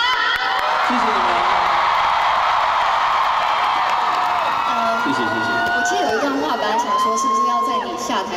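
Audience at an awards-show stage event screaming and cheering loudly and continuously, a dense crowd roar with high shrieks and some clapping, while amplified voices speak over it.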